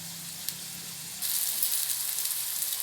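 Wheat flour snacks frying in a shallow layer of oil, a steady close sizzle that swells louder partway through as a fresh batch goes into the pan, with no talking.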